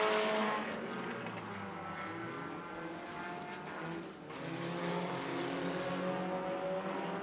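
Race car engines drone steadily from a distance as cars lap a track, a continuous whining roar that dips briefly midway and then swells back louder toward the end.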